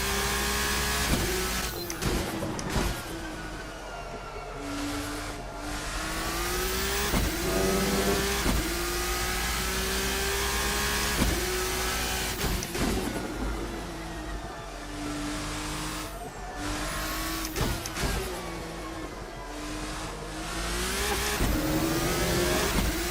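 Race car engine in Assetto Corsa on the Paul Ricard circuit, loud and continuous, revving up through the gears with repeated rising pitch sweeps and short drops at each shift.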